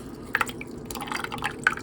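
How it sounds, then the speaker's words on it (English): Melted ice water dripping from a carton being peeled off an ice candle, a few distinct close drips and small splashes over quiet background. "See there's the water coming out."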